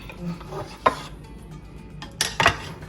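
Salted plantain pieces tossed and mixed in a bowl, giving a few sharp utensil clinks and soft rubbing scrapes at close range, with quiet gaps between them.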